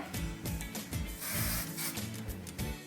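Continuous hissing hairspray with rustling and rubbing sounds of hair, steady and close, lasting a few seconds with no talking.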